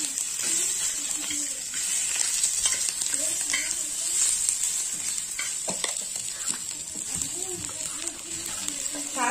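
Potatoes stirred and sizzling in a hot pan for a Mumbai-style batata vada, a continuous fry hiss with scraping stir strokes, fairly quiet, with voices in the background.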